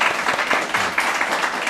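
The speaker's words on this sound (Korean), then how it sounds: "환영의 박수를 쳐주시기 바랍니다" A church congregation claps in welcome during a Sunday service, a continuous, fairly close patter of many hands throughout the short burst.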